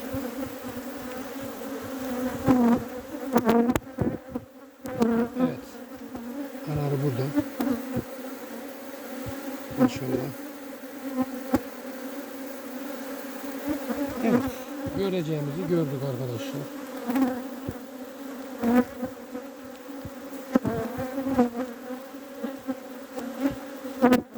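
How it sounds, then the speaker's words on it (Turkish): Honeybees hum densely around an open spring beehive being inspected, a close, continuous buzz with individual bees whining past the microphone and wavering in pitch. "Daha fazla arıyı rahatsız etmeyelim."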